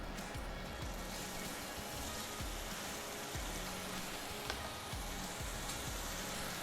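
Sausages and peppers sautéing in a pan for dirty rice, giving a steady, even sizzle that runs the whole time at moderate loudness, with low thumps and clatter now and then beneath it and no talking.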